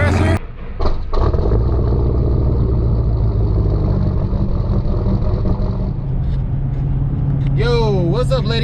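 A Dodge Charger Scat Pack fitted with Kooks long tube headers and high-flow catted mid pipes runs loud and close, its exhaust droning steadily at idle-to-revving pitch before tapering, with brief tonal whine rising near the end.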